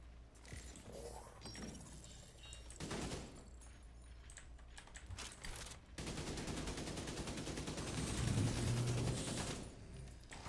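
Heavy gunfire from a firefight in The Division 2, with dense bursts and automatic fire that swell into a loud, continuous barrage in the second half, one shot powerful enough to knock the player back.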